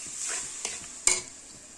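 Ginger and rice paste going into a pan for a katla kalia fish curry, with a soft steady sizzle, a quick metallic clink and a sharp scrape of stirring, close and unaccompanied by talk.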